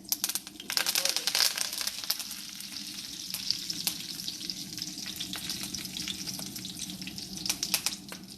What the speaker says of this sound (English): Fry for a few minutes.